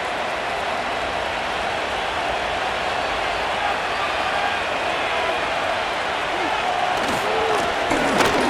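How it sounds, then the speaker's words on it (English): Constant roaring stadium crowd noise in the Madden NFL 25 football video game, Tampa Bay Buccaneers versus Atlanta Falcons, a dense, steady wash of cheering that swells slightly near the end. "And they're going to hear it from this crowd."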